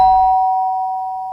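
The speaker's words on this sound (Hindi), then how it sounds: "कि डोरबेल बजी।" A doorbell rings with one clear, loud electronic tone that holds steady and slowly fades, with nothing else around it.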